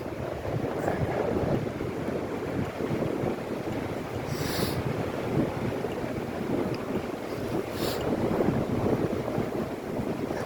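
Strong wind roars and buffets steadily across the microphone in Waikiki, a dense rushing noise that never lets up, with a couple of brief hissing gusts.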